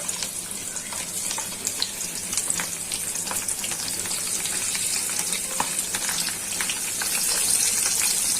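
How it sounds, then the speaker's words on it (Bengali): Golsha or tengra fish sizzle in hot oil, a dense, continuous crackle with sharp pops scattered throughout, close and steady, growing slightly louder toward the end. "এখন একে একে মাছগুলো ছেড়ে দিচ্ছি। তেলটা গরম হয়ে গেছে।"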